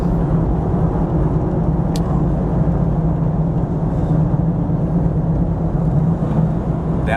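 A car engine pulls hard at steady, loud volume from inside the cabin, a continuous low drone as it accelerates after a downshift, with no talking.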